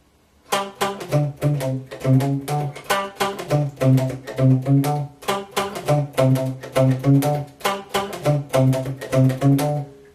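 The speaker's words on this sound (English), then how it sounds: "But I'm deadening the notes with my right hand." Muted funk guitar chank strumming, notes deadened by the right hand, with short, choppy chords moving up in half steps in a steady rhythm, close and fairly loud, no voices.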